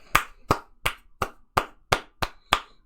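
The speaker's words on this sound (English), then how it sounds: "Come on, everybody clap." Steady rhythmic clapping, about three claps per second, sharp and close, with no voices.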